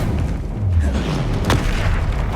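Expelliarmus spell cast in Hogwarts Legacy: a deep booming rush with a sharp crack partway through, loud and close over low rumbling game ambience.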